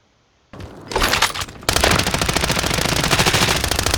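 Gunfire in Call of Duty: Warzone trios: after a short silence, close, loud automatic shots begin, break off briefly, then become a steady rapid machine-gun-like stream of evenly spaced cracks.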